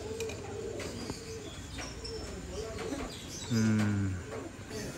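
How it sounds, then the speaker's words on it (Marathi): A large white pigeon coos outdoors in a few low, throaty phrases, near and fairly loud, with other birds chirping faintly in the background. "हे कबूतर बघा केवढे हा"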